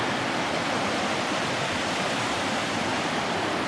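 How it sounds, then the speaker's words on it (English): Green river water rushing at Peekamoose Blue Hole in the Catskills, a dense, even broadband wash of flowing water, steady and fairly soft, with no voices. "Look at the pretty green river."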